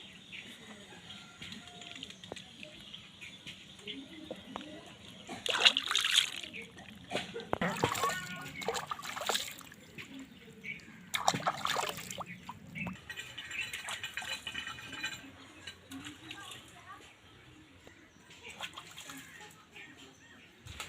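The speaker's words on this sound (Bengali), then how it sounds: "মাছগুলো ধোয়া হয়ে গেছে" Cleaned saipon fish are rinsed in water, with soft splashes and handling sounds rising and falling for about twenty seconds, bird calls faintly in the background.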